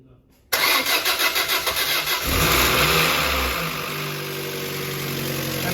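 A Fiat Marea 1.6 16V cranks with a rapid rhythmic starter whirr after a quiet moment, catches, and settles into a loud, steady rough idle close by.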